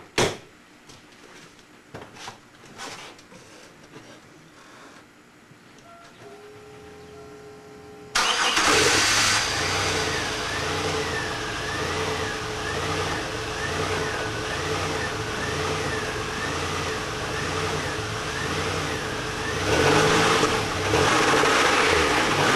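A Pontiac Grand Am street race car engine fires up after some quiet clunks and handling sounds, then idles loudly and steadily nearby with a brief rev near the end.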